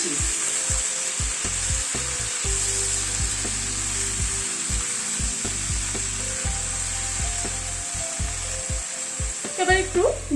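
Mixed vegetables with salt and turmeric frying in a pan for a Bengali pui shak and fish head chhechra, a steady close sizzle with repeated scraping and knocking strokes from stirring throughout.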